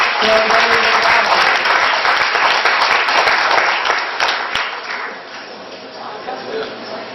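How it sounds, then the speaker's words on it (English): Audience applause at a school board meeting, a burst of clapping from a modest crowd that stays strong for several seconds, then thins and tapers as voices murmur underneath. "Let's give him a nice round of applause."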